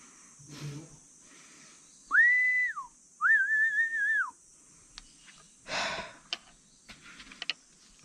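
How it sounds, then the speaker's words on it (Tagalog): A person whistles two short rising-and-falling tones in a dark cave with bats, clear and close, followed by a rustling burst and a few faint clicks against a quiet background. "Di sumisipol, ikaw sumisipol."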